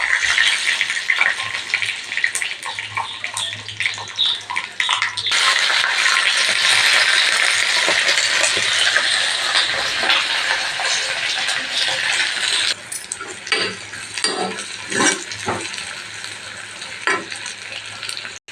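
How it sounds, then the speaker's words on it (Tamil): Mustard and fenugreek seeds sizzle and splutter in hot oil while tempering for a sambar, a dense, continuous crackling hiss that swells in the middle and then eases into scattered pops, with no talking. "இப்போ கடுகு, வெந்தயம் போட்டு தாளிக்கலாம்."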